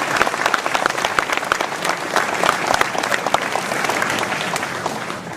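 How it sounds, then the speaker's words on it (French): An audience at a mayor's New Year address in Ouistreham applauds the police with sustained, dense clapping from many hands, steady and fairly loud throughout, with no speech over it. "nous pouvons applaudir les forces de l'ordre"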